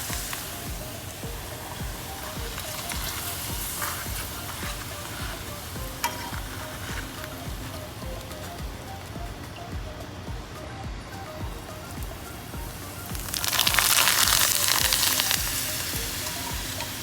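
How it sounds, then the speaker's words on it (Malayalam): Pappadam frying in hot oil: a steady, close crackling sizzle that continues throughout, then swells into a louder burst of bubbling hiss near the end. "ഞാനിനി ഈ പപ്പടവും കൂടെ ഒന്ന് കാച്ചിയെടുക്കാനായിട്ട് ഇവിടെ എണ്ണ ചൂടായിട്ടുണ്ട്."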